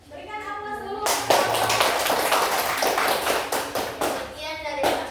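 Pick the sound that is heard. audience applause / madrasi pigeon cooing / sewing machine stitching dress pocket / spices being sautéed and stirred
audience applause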